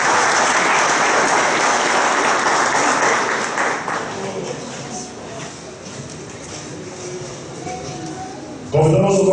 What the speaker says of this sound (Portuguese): onde recebemos uma salva de palmas